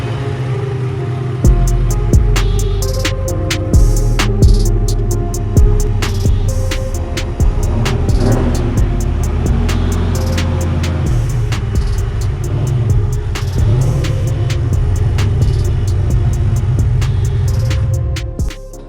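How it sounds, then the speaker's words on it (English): Idle of a turbocharged Fox Body engine with a rough idle, a loud, close, lumpy rumble with irregular sharp pops and stumbles throughout, before cutting off at the end. "we've noticed a loss of power and a rough idle, especially at first startup"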